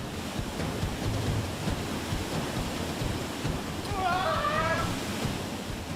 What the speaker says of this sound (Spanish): Pero no toda esa agua llega al fondo de cataratas como esta.